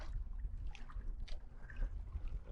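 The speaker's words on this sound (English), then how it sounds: "It's just so bloody windy." Strong wind gusts buffet the microphone on a saltwater canoe while fishing near mooring ropes, a steady loud rumbling roar with no voices.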